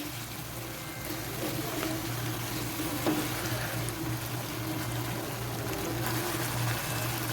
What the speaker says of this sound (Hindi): इसे थोड़ी देर के लिए फ्राई करेंगे